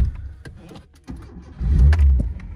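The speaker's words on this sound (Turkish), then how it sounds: "Şimdi bir aracımızı bir çalıştıralım tekrardan" A Tofaş car's engine cranks and catches, with a few short clicks and knocks before a low, steady idle rumble swells up close for the final second.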